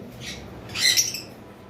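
Lovebirds at a bird farm give a faint rasping squawk, then a louder, harsher squawk close by, short calls over quiet background noise.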